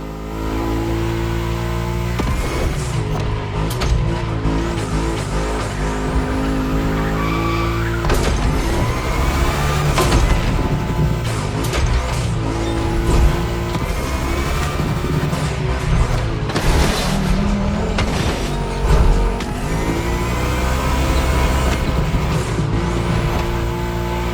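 Volkswagen race cars drift on a track, their engines revving hard and falling back again and again, loud and close for the whole stretch, with tyre scrub and thumps mixed in and no one speaking.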